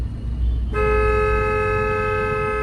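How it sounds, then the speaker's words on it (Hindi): A car horn held in one long continuous blast, starting abruptly after a moment of road and engine rumble and staying loud and steady to the end. "लॉन्ग हॉर्न प्रेस करिए"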